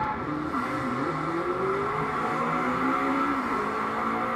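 A McLaren 650S in Driveclub accelerates hard on track in hardcore mode, its engine note rising and sweeping steadily through the gears, loud and continuous with faint tyre noise.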